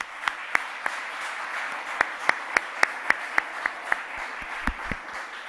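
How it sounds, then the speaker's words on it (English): Sparse audience applause at a 2021 USVI tech summit: a thin scatter of separate handclaps over a quiet room, with a few sharper claps standing out at a steady uneven pace. "Let's give them a round of applause, please."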